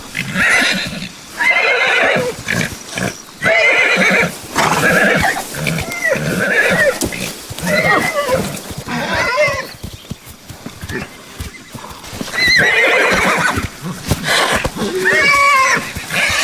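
White horses in a herd neigh and whinny repeatedly, loud and close. Clip-clop hoofbeats sound between the calls, and there is no talking.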